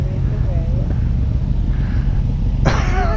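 Ferrari sports cars at a track-style event pass by, a steady loud engine rumble with a rising rev near the end, with motorcycles idling close and people talking over it.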